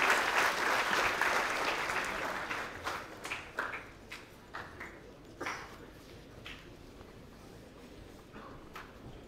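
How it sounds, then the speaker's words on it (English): An audience applauds to welcome Dr. Sanjeev Sanyal to deliver a lecture, loud sustained clapping at first that thins out into scattered individual claps and fades toward quiet. "Please, ladies and gentlemen, welcome him with a round of applause, Honorable Dr. Sanjeev Sanyal sir"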